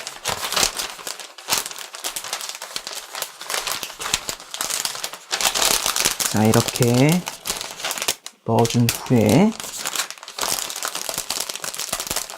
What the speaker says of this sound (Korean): 풍선을 투명 비닐 안에 조심스럽게 넣어줍니다.